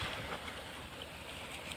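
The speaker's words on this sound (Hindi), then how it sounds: "ये देखिए पानी की आवाज़ सुनिए" Rushing water of the Brahmaputra river as it erodes and carves away its bank, a steady broadband roar with wind buffeting the microphone throughout, no voices.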